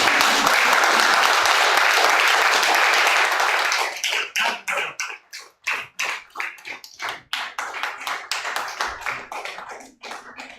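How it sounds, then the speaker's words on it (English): Audience applause at a business seminar: dense, continuous clapping for about four seconds, then thinning into scattered individual claps that fade out. "Clap for me."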